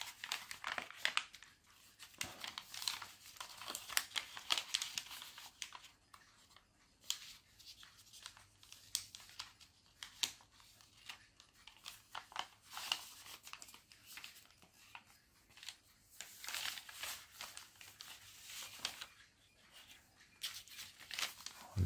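Paper from a Beano paper plane kit being folded and creased, giving soft, repeated crinkling and rustling bursts at close range throughout, with light background noise.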